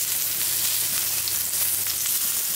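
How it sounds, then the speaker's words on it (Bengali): Eggplant slices frying in a little oil in a pan, a steady, close crackling sizzle that carries on unbroken without any talk. "তেলে বেগুন ভাজলে এইভাবে কষ্ট করে একটু উলট করতে হয়"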